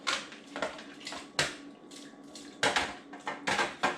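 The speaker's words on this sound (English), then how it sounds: "We're also going to go ahead and put our chicken in." Raw chicken dropped into a pot of cream-of-chicken soup and rice set to boil on medium-high heat, with several clattering knocks of pot and utensil over a bubbling, sizzling background and no talking.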